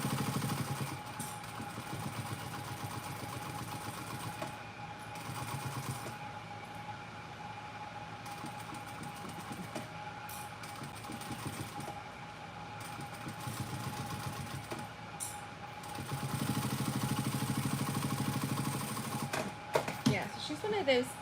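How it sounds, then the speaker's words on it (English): A sewing machine stitching leather for a handmade bag hums in long runs of steady mechanical whirring, then grows louder and more rapid near the end, with a few sharp clicks. "I am sewing a vixen out of leather for my daughter for her birthday."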